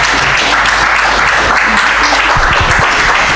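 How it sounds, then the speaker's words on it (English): Loud, dense applause from a live audience right after a spoken-word poetry performance, sustained clapping filling the whole moment with no voice over it. "Please keep clapping"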